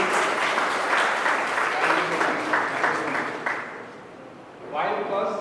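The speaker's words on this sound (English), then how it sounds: "So big round of applause for all the" Applause from the audience at a valedictory session of a polytechnic faculty development programme rolls for about four seconds, dense and fairly close, then fades as a voice starts speaking.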